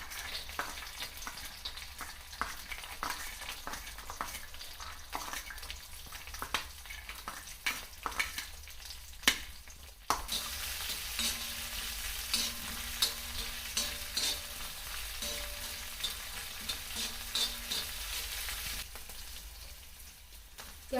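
Green chilies and peanuts fry in ghee in a pan, a steady sizzle broken by frequent stirring scrapes and clicks that stays close and unbroken for about twenty seconds with no talking.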